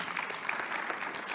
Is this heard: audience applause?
yes